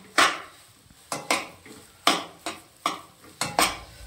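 Mawa being stirred into mung dal halwa in a pan: a spoon scrapes and knocks against the metal in about eight distinct strokes spread evenly, close and fairly clear, with no talking.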